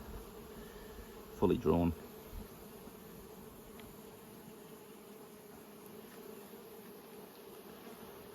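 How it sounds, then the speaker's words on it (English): Honey bees buzzing around hives at an apiary in Nymboida under good conditions, a faint steady hum with a short louder burst as one flies close, and a brief voice speaking over it. "These are really good bees on good conditions."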